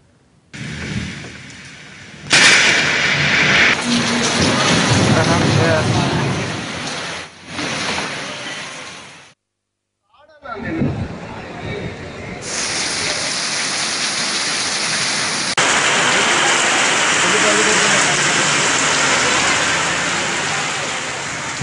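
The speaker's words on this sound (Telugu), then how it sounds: "విశాఖ నగరంతో పాటు విజయనగరం, శ్రీకాకుళం జిల్లాల్లో భారీ వర్షాలు కురుస్తున్నాయి" Heavy rain pours steadily over a city street in the Visakhapatnam and Vizianagaram area, a dense continuous hiss that briefly cuts out before returning even louder.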